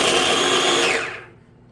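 A blender whirs loudly and steadily while cutting butter into a coffee cake crumb topping, then winds down and stops within about a second.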